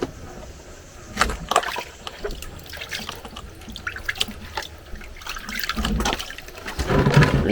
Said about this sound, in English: Rinse them off with some fresh water